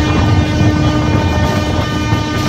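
The Rajdhani Express rolls into platform 13 with a loud, continuous rumble of wheels and carriages, a sustained horn tone running through it.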